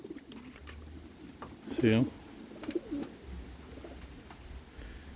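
A young racing pigeon coos in a short burst of low, throaty notes near the middle, with a brief voice and faint outdoor background.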